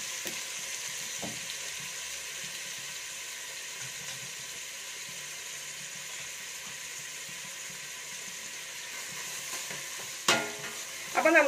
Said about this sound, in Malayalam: അപ്പം നമുക്ക് ഈ സവാള നല്ല ഗോൾഡൻ കളറാവുന്ന വരെ നമുക്കിത് ഫ്രൈ ആക്കി എടുക്കേണ്ടതാണ്